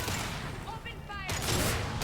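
Gunfire in the Mass Effect 2 video game, a sustained burst of shots that swells louder near the end, mixed with game noise and a voice.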